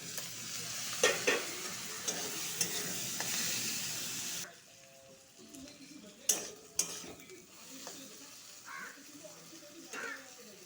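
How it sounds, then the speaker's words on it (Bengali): Pointed gourd with curry leaves sizzles and fries in a pan, first as a loud, steady hiss, then quieter with stirring scrapes and metallic clinks of a utensil against the pan. "সাথে কয়েকটা কালি পাতা দিয়ে দিব পটলটা ঢেলে দিব"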